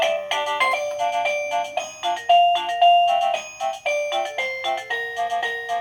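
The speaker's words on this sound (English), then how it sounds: "this is the Govee wireless waterproof doorbell. Ah, little baby soothing melody" A Govee wireless waterproof doorbell chime plays a gentle lullaby-like melody of bright, clear electronic tones in a steady rhythm, loud and close with no talking.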